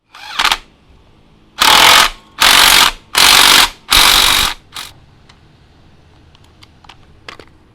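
Loud ratchet clicking in four rapid bursts while tightening a part on a Kawasaki RR motorcycle, followed by a few faint metallic taps.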